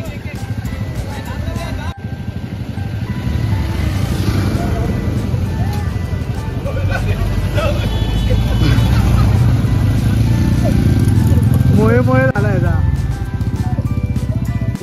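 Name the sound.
motorbike engine running during ride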